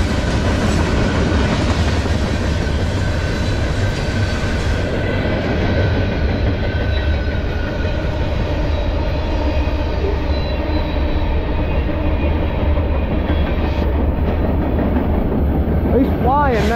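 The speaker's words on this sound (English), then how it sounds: "Manifest train." A long Norfolk Southern manifest freight train, 18G, led by a rebuilt AC44C6M locomotive, rumbles past close by, wheels clattering steadily with occasional high metallic squeals toward the end.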